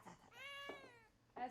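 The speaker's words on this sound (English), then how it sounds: "I found a cat." A cat found on a patio gives a long, clear, drawn-out meow, quiet and close, followed by a shorter chirp, with a person's voice faintly around it.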